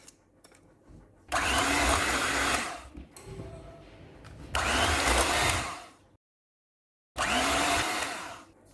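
An electric beater whirs loudly in three separate bursts, several seconds each, mixing eggs into marble cake batter, with brief quieter pauses and a short silence between runs.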